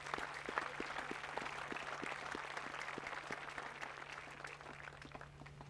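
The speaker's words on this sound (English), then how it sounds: "you should give yourself a round of applause for being such outstanding citizens." Scattered audience applause at a ceremony, sparse distinct claps over a faint, low-level crowd clatter with a steady low hum beneath, the clapping thinning toward the end.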